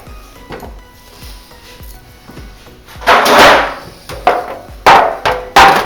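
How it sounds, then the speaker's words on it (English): Knife cutting cabbage into julienne strips on a board, with quick light taps followed by several louder, close, scraping chops. "As you see, I'm cutting them into strips as well,"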